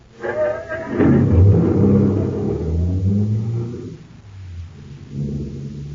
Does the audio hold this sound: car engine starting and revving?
yes